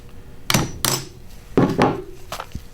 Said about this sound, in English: Or you can hit them with a hammer and knock them loose.